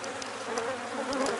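Honeybees in a working apiary hum in a steady, close, continuous buzz while a beekeeper handles the hive frames, with no talking.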